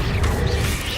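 An Accio summoning spell goes off in the Hogwarts Legacy video game as a brief whooshing, creaking magical surge over a low rumble.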